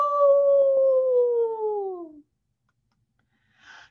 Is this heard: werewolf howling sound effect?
yes